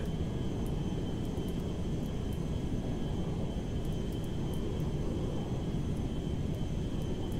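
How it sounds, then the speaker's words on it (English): In the GTA 5 video game, a plane's engine struggles and stalls as it climbs: a steady, dense drone with a rumbling low end that holds without break, loud and close, with no talking. "my plane's starting to get limited here. It's not going up higher. I'm stalling, guys."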